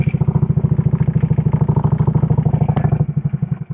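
Motorcycle idling and creeping at low speed through slow U-turns, a steady close thumping pulse with a brief clank near the end, no talk.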